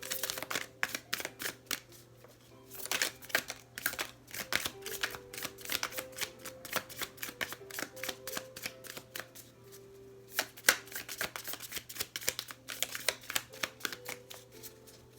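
Tarot cards riffle and slap together in rapid bursts, a close, crisp shuffling that starts, pauses and resumes several times.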